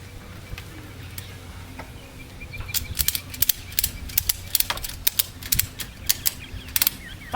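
A ratchet tie-down strap is cranked on a motorcycle hitch carrier, giving a run of sharp, close mechanical clicks in quick, uneven bursts after a quiet start.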